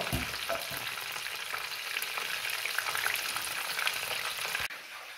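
Pork belly frying in a pan, a steady dense sizzle with crackling spatters throughout, close and continuous, dropping off slightly near the end.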